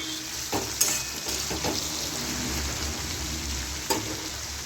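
Bottle gourd poppy-seed curry with fried lentil dumplings sizzles steadily in an opened pressure cooker as a spoon stirs it, with a few scraping strokes over the continuous close frying hiss.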